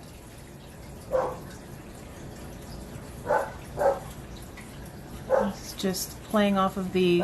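Dogs barking indoors, a few sharp separate barks spaced across the clip and ending in a burst of higher yips, moderately near, while someone talks quietly between them.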